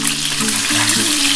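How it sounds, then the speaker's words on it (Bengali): Eggs seasoned with turmeric and salt fry in hot oil, giving a loud, continuous sizzle with steady crackling and no voices over it. "ডিমের মধ্যে একটু হলুদ দিয়ে দিলাম, আর একটু নুন দিয়ে ভেজে নেব"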